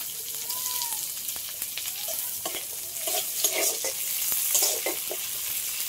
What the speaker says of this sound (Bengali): এবার আমি দিয়ে দিচ্ছি পেঁয়াজ কুচি